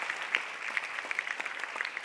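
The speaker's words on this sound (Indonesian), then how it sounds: "Boleh minta tepuk tangan juga buat istrinya Mbak Tami." A stand-up comedy TV studio audience claps for Mbak Tami, a quiet, even patter of many hands that carries on without a break and has no voices over it.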